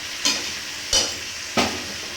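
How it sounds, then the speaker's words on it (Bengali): Chicken cooking in a pan with spices, stirred in three distinct scraping strokes over a steady quiet sizzle of frying, close and alone with no talk. "এবার কষিয়ে নেবো এইভাবে।"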